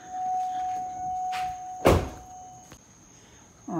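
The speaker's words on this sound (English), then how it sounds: "Close this door." A Cadillac Escalade door shuts with a single loud, solid thunk near the middle, after a quiet stretch with a faint steady tone, then a soft rattle afterward.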